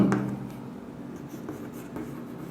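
Chalk or marker strokes on a classroom board during a physics lesson on magnetic hysteresis, a short scratchy stroke near the start followed by softer faint scraping against low room hum, with no talking.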